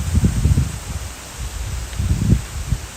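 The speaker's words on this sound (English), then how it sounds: "Now it's getting really windy." Wind buffets the microphone in low, rumbling gusts that swell and fade, with a steady hiss underneath.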